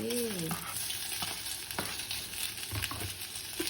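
Cucumber and egg stir-fried together in a home kitchen pan, with a steady close sizzle and scraping stirs of a spatula throughout, a brief tone at the start and no talk.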